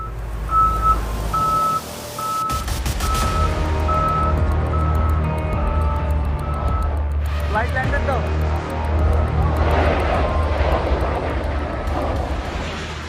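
A loud, steady Turkish Airlines passenger jet engine drone, after a bird strike fire in its second engine, fills the scene, with a regular electronic beep repeating over it early on.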